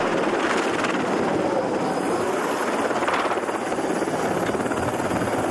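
A turbine helicopter sits on the helipad of a Greenpeace ship before takeoff, its engine and rotor producing a loud, steady whine and rushing roar that holds constant.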